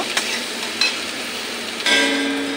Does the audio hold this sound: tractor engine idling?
no